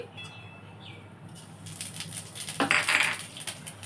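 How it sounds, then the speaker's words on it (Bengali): Panch phoron spices tipped into hot mustard oil in a kadai, a quiet start followed by a burst of crackling and popping sizzle that swells, then settles. "আমি ফোড়নগুলো দিচ্ছি পাঁচ ফোড়ন দিচ্ছি"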